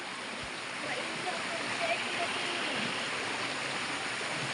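Steady broadband rushing of a flowing river or stream, close and continuous, with faint splashes mixed in.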